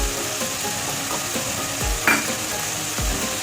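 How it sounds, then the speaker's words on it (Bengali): Spices with chili powder and a little water fry in a pan and are worked with a spoon. A steady close sizzle runs throughout, with a few scraping stirs at intervals. "ভালো করে কষিয়ে নেব।"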